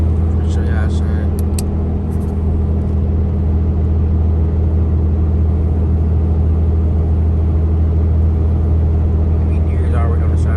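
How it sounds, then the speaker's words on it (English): A car passes along a road at night, a loud steady rumble filling the scene from start to finish, with someone talking nearby. "Wait till that car come by."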